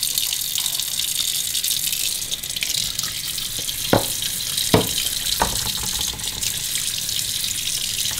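Raw meat for sate maranggi is rinsed under a running kitchen tap, giving a steady close rush of water with a few brief knocks and splashes as the meat is handled. No one speaks.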